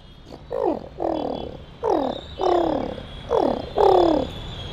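A man imitates a pigeon's call, producing six low, throaty cooing phrases in a slow, regular sequence, moderately loud and close with no other sound.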